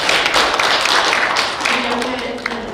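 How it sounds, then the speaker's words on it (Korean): Audience applause at a book launch event, a dense burst of clapping from a seated crowd that gradually thins out over a few seconds. "박수 부탁드립니다."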